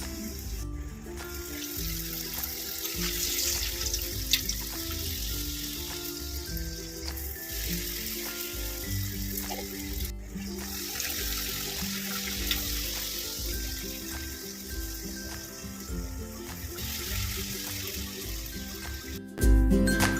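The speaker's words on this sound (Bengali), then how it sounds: "এবার ভাজবো লুচিগুলো" Luchi puffed flatbreads deep-fry in hot oil with a steady, close, bubbling sizzle that runs continuously for about twenty seconds, with a louder burst near the end.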